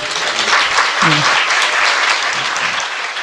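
A studio audience applauds at a political talk show, a full, steady clatter of many hands, with a voice speaking briefly under the clapping.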